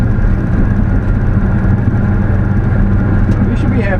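A Chevy truck with a blown-up turbo cruises barely on the throttle, producing a low, even engine rumble with someone talking over it throughout.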